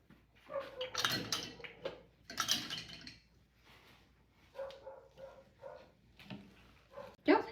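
A dog barks outside at a delivery worker, several sharp barks in short bursts at a moderate distance, separated by quieter gaps, with a few faint clinks nearby.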